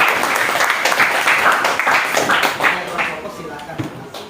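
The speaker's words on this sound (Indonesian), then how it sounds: "Tepuk tangan dulu." Clapping from a group of people at a supervision visit, a burst of hand claps with voices talking over it, fading somewhat toward the end.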